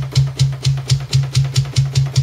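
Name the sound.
kick drum without plugin, metal mix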